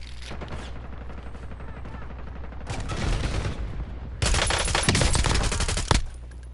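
Automatic gunfire bursts and loud fusillades in a Call of Duty Black Ops 6 Warzone match, starting in sporadic volleys and building to dense, intense sustained firing near the end.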